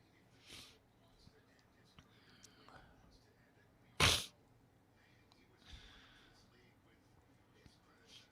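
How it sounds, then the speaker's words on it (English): A single sharp, close sneeze bursts out once amid quiet room tone with faint sniffs and small rustles around it. "I've got the sneezes today."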